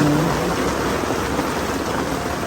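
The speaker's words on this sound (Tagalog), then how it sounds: "Pag sobrang lakas ng ulan, natulo na yan" Heavy rain pours steadily as a dense, continuous hiss that stays loud and even throughout, with no voices.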